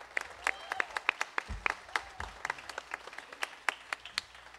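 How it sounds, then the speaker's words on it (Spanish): Audience applause welcomes the musicians Luis Mike and Mario Sacasa at a live unplugged Christmas show in Boaco, Nicaragua. The clapping is moderate and steady, with distinct individual claps throughout and low thumps underneath. "Démosle la gran bienvenida y un gran aplauso"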